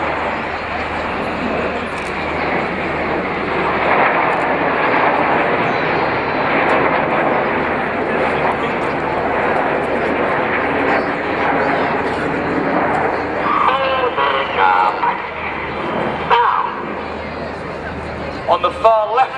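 Red Arrows jets fly in formation at the Lowestoft air show, a loud steady engine roar filling the whole stretch while a commentator talks over it.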